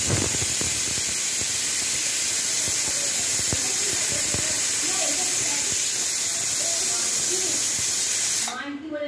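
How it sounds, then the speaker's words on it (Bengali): A pressure cooker with potatoes for aloo chorchori lets out a sustained loud hiss of escaping steam that holds steady for about eight seconds, then cuts off abruptly near the end. "এই 3rd সিটি পড়তে যায়।"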